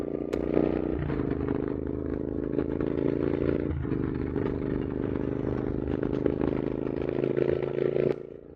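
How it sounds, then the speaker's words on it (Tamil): A Royal Enfield Interceptor 650 motorcycle engine runs hard at high RPM on the road, a close, strained drone with a brief dip in pitch partway through before it cuts off near the end. "பாருங்கள், இன்ஜின் ஸ்ட்ரெஸ்ஸை நீங்களே ஃபீல் பண்ண முடியும்."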